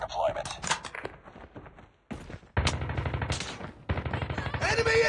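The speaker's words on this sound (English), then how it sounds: "Sentry gun deployed." Sentry gun fire in Call of Duty Mobile comes in rapid automatic bursts with a pause in the middle, loud and close, mixed with other game noise and voices.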